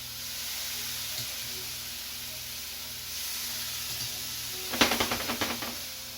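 Liquid poured into a hot pan of frying onions sets off a burst of sharp crackling sizzle near the end, rising over a constant quiet steamy hiss.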